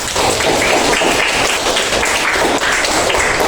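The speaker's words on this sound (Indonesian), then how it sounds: "Tepuk tangan dulu buat Arif." Classroom of students clapping for a classmate in an Indonesian school lesson, a dense, loud and continuous burst of close applause with no talking over it.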